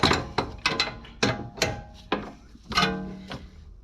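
A wrench ratchets and clicks in short bursts while tightening a coilover on a BMW E46, with about eight sharp metallic clacks and ratcheting strokes spaced unevenly, close and fairly loud with no talk.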